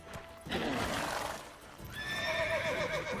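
In the video game The Witcher 3, a horse whinnies loudly twice, the second a long shaky neigh, with hoof clatter and rustling in between.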